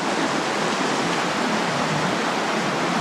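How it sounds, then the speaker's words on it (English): River rapids on Vancouver Island rushing where the channel narrows, a steady broadband roar of churning water, loud and continuous with no voices. "as the river narrows, there's more rapids"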